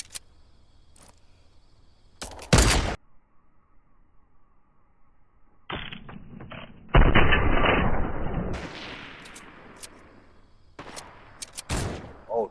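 Gunfire in a shooter video game: sharp, isolated shots break a quiet backdrop, then a longer noisy burst and rush of bullets passing close by, followed by more scattered cracks.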